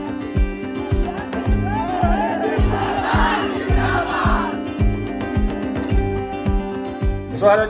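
Crowd of fans cheering and shouting at a YouTuber meet-up in Forbesgunj, a dense roar of voices swelling mid-clip over a steady, thumping music beat.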